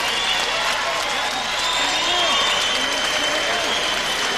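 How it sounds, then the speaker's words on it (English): A boxing crowd applauding both fighters after a TKO stoppage, a dense continuous wash of clapping and cheering across the arena, loud and steady throughout with no voice clearly standing out. "may we have a nice round of applause for both of these fighters"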